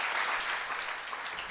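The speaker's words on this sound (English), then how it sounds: "Let's give God a real applause for that." A crowd applauding steadily, a dense wash of many hands clapping at once, loud and sustained without pause.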